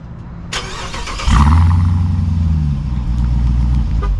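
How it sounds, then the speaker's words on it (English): A Dodge Durango SRT Hellcat is remote-started and fires up with a sharp crank, then settles into a loud, deep rumbling idle through its dual exhaust. The sound is close and continuous. "let's listen to that dual exhaust now"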